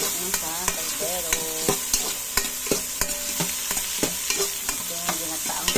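Mussels in coconut milk being sautéed in a pot, with steady frying sizzle and repeated clinks and scrapes of a spoon stirring against the metal, close and continuous.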